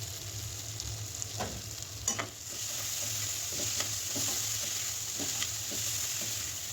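Potatoes frying with ginger and garlic paste in a pan, a steady close sizzle broken by scraping stirs, with no talking.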